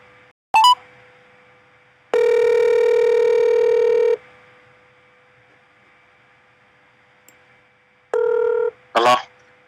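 A telephone call being placed: a quick burst of dial tones, then a long steady ringback tone, a quiet pause and a second ring that cuts off abruptly as the line is picked up.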